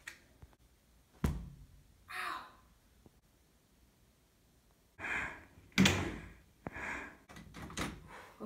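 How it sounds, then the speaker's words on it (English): Doors are locked in a horror video game, giving a sharp click, then several soft thuds and latch rattles in scattered bursts over a quiet background. "Okay, I just locked the doors."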